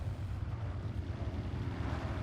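Low, rolling thunder from a storm in the racing game Forza Horizon 6 rumbles steadily and continuously, a deep, moderately loud roar with no voices over it.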